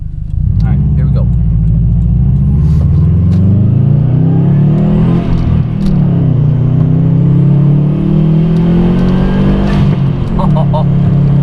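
A 2013 Subaru WRX Hatchback accelerating hard, its engine note rising steadily and loud from inside the cabin, with a brief dip at a shift before climbing again, under occasional talk.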